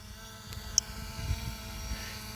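Fimi X8 drone hovering and tracking outdoors, its propellers a steady, moderate whirring drone that holds constant throughout with a faint tick or two over it.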